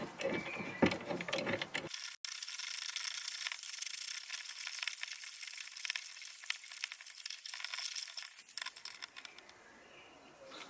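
Sumitomo brake caliper bolts are turned down by hand with a ratchet on an R33, producing a continuous run of quick, fine clicks close to the microphone. The clicking stops near the end, leaving quieter handling noise.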